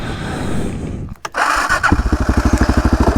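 A Suzuki 650 DR SE motorcycle engine cranks and catches, then settles into a loud, steady, close-up thumping idle with a quick regular beat.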